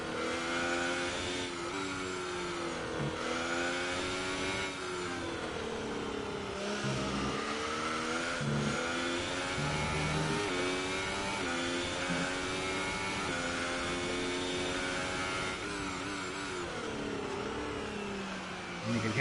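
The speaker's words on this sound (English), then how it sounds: "You hear that when he's off the gas, you almost hear like that car make a growling noise." A Ferrari Formula 1 car at Circuit of the Americas drives through the technical S-curves, its engine growling and crackling off the throttle as the anti-lag system works, then revving up again in repeated surges throughout.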